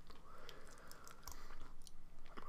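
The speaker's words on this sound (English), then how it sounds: "while I'm chewing." Someone chews chocolate close to the mic, with soft, rhythmic, moist mastication and faint clicks that run steadily throughout, quiet and alone.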